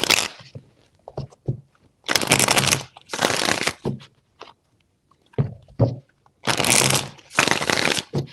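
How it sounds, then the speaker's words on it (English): A deck of tarot cards is shuffled in several crisp, rustling bursts, close and loud, separated by short pauses and soft handling clicks. "4 shuffles."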